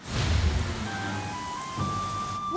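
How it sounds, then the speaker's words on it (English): Heavy cartoon rain pours steadily while deep thunder rumbles low underneath, with a few brief tonal sound effects rising near the end, loud and close throughout. "It's raining harder than ever."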